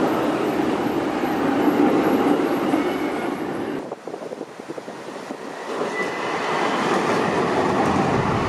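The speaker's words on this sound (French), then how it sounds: "Le bruit permanent, les avions, les trains, la nationale 6 avec les voitures." Train rolling past in an Alpine valley, a loud continuous rumble and rail clatter that dips briefly midway before the roar of the carriages swells again.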